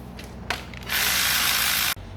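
Ratchet undoing 10mm bolts on an Alfa Romeo 159 2.4 during swirl flap manifold removal: a couple of brief clicks, then about a second of steady bright ratcheting whir close up, stopping abruptly.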